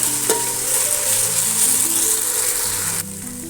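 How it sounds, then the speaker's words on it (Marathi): Ginger, garlic and chilli paste sautés in hot oil for a prawn biryani, giving a loud, steady sizzle and frying crackle that runs the whole time with no talking. "आलं लसूण आणि मिरची यांची मी पेस्ट करून घेतली ही पेस्ट चांगली परतून घेणे"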